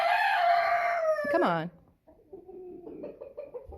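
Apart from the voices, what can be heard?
chickens clucking and rooster crowing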